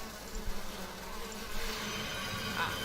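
Bees buzz in Zork: Grand Inquisitor, a steady, faint insect drone that holds evenly for a few seconds with no voices over it.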